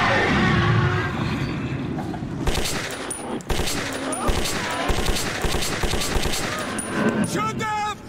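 Rapid bursts of automatic gunfire crackle through a firefight in the video game Metro 2033, dense and continuous over several seconds, with voices shouting underneath.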